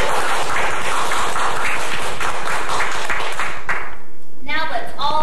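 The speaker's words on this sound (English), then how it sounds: "Now, class, let's all give Seagull a round of applause." A class claps steadily for several seconds, then the applause stops abruptly and a voice begins speaking.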